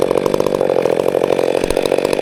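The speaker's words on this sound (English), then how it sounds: "run the Stihl chainsaw, all that good stuff" A Stihl 462 chainsaw runs loud and close in big wood in the forest, its engine a steady, buzzing roar that holds throughout without talk.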